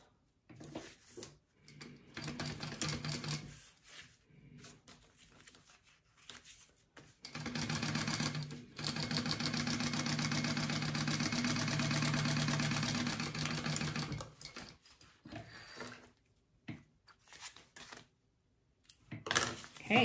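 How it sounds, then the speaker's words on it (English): Sewing machine top stitching along the top edge of a leather wallet's card slot slip pocket, a steady mechanical motor hum in sustained bursts with short pauses between runs. "And then I'm going to top stitch along the top of this."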